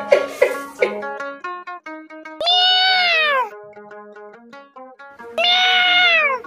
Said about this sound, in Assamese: এই ইয়াত মেকুৰী ভৰাই থৈ দিছে নেকি?